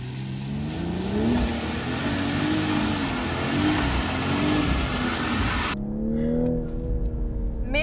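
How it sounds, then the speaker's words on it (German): Toyota GR Supra sports car accelerating hard, a loud close engine note rising and falling in pitch as it revs through turns, continuous for several seconds and then cutting to a sharper rising rev near the end. "Also der gibt Gas, wenn er Gas geben soll."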